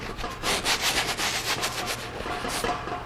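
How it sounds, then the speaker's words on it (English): A paintbrush scrubs paint onto a landscape canvas, producing close, rhythmic rubbing and bristly swishing strokes repeated several times a second, soft but steady, with no voices. "laying in kind of a random brush stroke and just scrubbing in a color"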